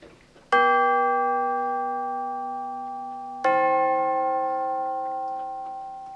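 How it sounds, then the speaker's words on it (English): Tubular bells ring out two strong struck notes for a logo fanfare, each clear metallic tone sustaining and slowly decaying, the second following about three seconds after the first. "for this kind of logos, is usually useful to use tubular bells"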